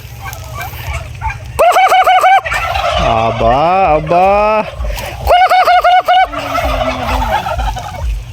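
Several turkeys gobble loudly in bursts of rapid, warbling calls close by inside a turkey pen, while a person speaks Tagalog and another voice joins between the gobbles.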